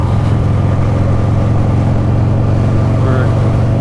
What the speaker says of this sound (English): riding on the Buell, just trying to run its course because it's running poorly